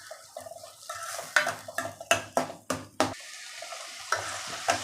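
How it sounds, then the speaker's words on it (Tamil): Chopped tomatoes are sautéed in a pan for a lentil curry, with a soft sizzle under sharp scraping and tapping as a spatula stirs against the metal. The stirring strokes come in an uneven rhythm, close and clear. "அதையும் இதோடு சேர்த்து நல்லா வதக்கிக்கலாம்."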